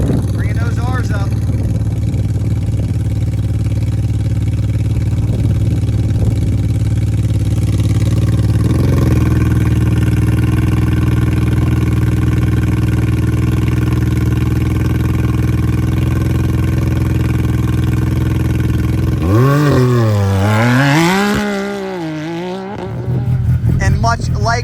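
An off-road desert race vehicle engine bounces on the rev limiter at a qualifying event, a loud sustained droning roar that holds steady, then swoops up and down in pitch before cutting out briefly near the end.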